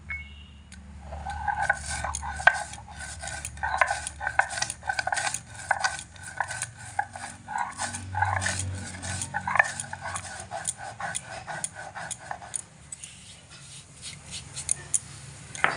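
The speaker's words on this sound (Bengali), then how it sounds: "এবার জিরে আমি শিলে ফেলে খুব সুন্দর করে বেটে নেব" Roasted cumin ground on a flat grinding stone, a run of rhythmic scraping and knocking strokes up close, then a short quieter stretch before the strokes resume.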